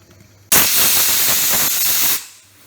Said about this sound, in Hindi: अब कुकर में भी एक सीटी आ चुकी है